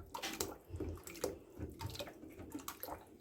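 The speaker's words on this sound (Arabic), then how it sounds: "وننزل الزيت جزء جزء كده بالراحة" Used cooking oil is poured slowly, part by part, into cooled lye for homemade soap, giving a soft irregular liquid trickle and splash up close.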